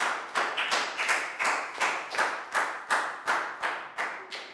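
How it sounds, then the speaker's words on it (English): A primary-school class claps together for a student in a maths lesson, about a dozen sharp, rhythmic unison claps in a steady beat, close and loud. "Big round of applause for Pakbung"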